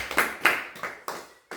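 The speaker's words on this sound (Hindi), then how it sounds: "एक बार ताली हो जाए।" Hand claps at a devotional storytelling gathering: about six distinct, evenly spaced claps, close and moderately loud, with quiet gaps between them.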